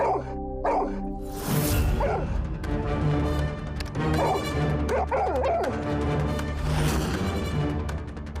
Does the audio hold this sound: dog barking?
yes